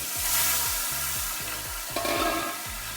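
Catfish pieces hit smoking-hot mustard oil, producing a loud, steady sizzle that holds for the whole stretch, with a faint rhythmic knocking underneath.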